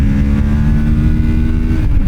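A Kawasaki Ninja 650 motorcycle engine pulls hard under acceleration, a loud close steady drone with rising harmonic pitch, heard from the rider's position with wind noise.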